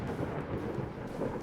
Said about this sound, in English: The thunder sound is very loud.